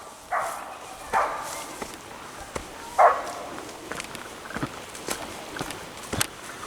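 Dogs at a kennel across a forest river give a few faint, separate barks in the distance, mixed with nearby footsteps and rustling.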